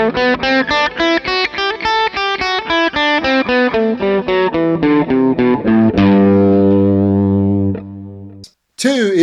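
An electric guitar with a distorted tone plays a steady ascending run of single notes of the G Ionian scale, then lets a final note ring out and fade.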